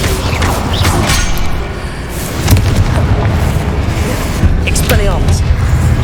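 An Incendio fire spell is cast in Hogwarts Legacy, loud booming bursts and crackling whooshes repeating over several seconds amid dense game action noise, with a voice speaking over it.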